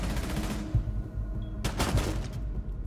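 Bursts of rapid gunfire crackle over a steady hum, with a sharp volley near the middle, from a ranked match of Rainbow Six Siege.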